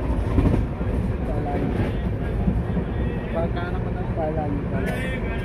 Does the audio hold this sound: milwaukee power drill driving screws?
no